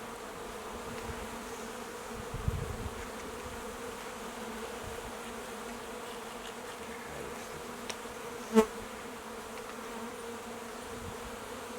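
Honeybees buzz in a steady, faint drone while a spring hive is opened and inspected, with a couple of brief knocks and clicks from handling frames and no talking.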